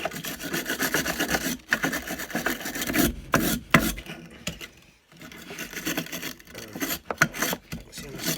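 Rough paint is rubbed off a surface by hand in uneven, scratchy back-and-forth strokes, close and moderately loud, with brief pauses between bursts.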